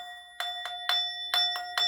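A bright metallic bell rings six times in quick, slightly uneven strikes, each leaving a clear sustained tone, loud and close with nothing else audible.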